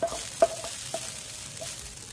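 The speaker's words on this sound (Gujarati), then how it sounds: "અને શાકની અંદર આપણે આ વઘાર જે કર્યો છે એકદમ સરસ રીતના લઈ લેશું લસણનો વઘાર." A hot garlic tempering hits a spinach curry with a quick sizzle. A few sharp clinks and stirring sounds follow over a soft, fading crackle.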